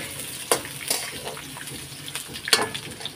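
Potatoes frying in oil with black cumin, a soft steady sizzle with a few louder crackling spurts, close and fairly quiet.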